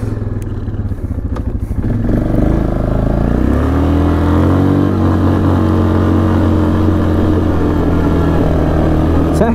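A 2006 Yamaha Kodiak 450 ATV drives in low range at about 19 to 20 mph. Its engine drones loudly and steadily from close by, and rattling clatter runs through the opening seconds.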